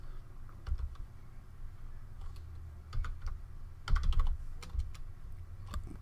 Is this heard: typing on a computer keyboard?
yes